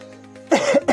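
A man coughs twice, loud and close, with harsh bursts after a quiet stretch of steady low hum.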